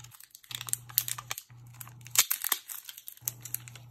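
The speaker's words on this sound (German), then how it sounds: "dann machen wir noch mal kurz hier die Folie ab, weil das Kabel brauchen wir auch gleich" Protective plastic film peeled off Apple TV HD packaging during an unboxing, heard as close crinkling and tearing bursts with short pauses between, over a steady low hum.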